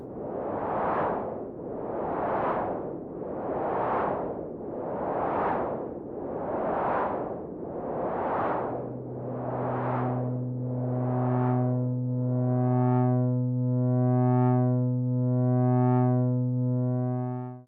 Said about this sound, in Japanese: こちらは VCO と内蔵されているホワイトノイズとのミックスバランスを調整する